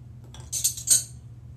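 Metal spoon stirring a baking soda mixture in a container during a simple science experiment; a few faint, light clinks and scrapes over quiet background hum.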